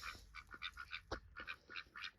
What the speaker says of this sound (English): Beautiful duck, man.